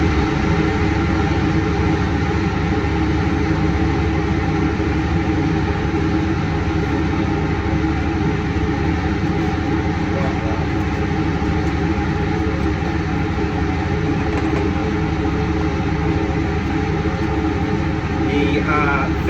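A laboratory fume hood's ventilation fan runs loudly and constantly, a dense steady whoosh and hum that fills the whole clip, with no clear speech over it.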